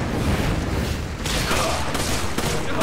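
Gunfire in the video game Resident Evil 5, dense bursts of shots and booms blending into a loud, continuous barrage with a few sharper cracks.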